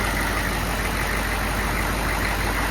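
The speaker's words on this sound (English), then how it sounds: "I've had the engine running here for about a minute at idle to cold start." A GM 6.5L diesel engine idles about a minute after a cold start, giving a loud, dense, steady clatter and drone that runs without a break and with no voices.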